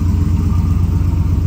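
A car engine idling just after a cold start in below-freezing weather, a steady, loud low rumble that holds even and unbroken throughout, close by with no other sounds.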